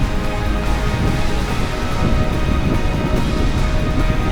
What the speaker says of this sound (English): it's bloody raining and freezing here